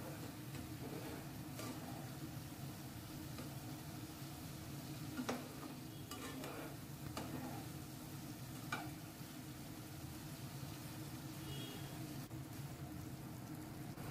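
Paneer piyaza masala, paneer cooked with onions, being stirred and sautéed in a pan with a little water: a steady low sizzle continues throughout, with a few soft scrapes of the spoon against the pan and no talking.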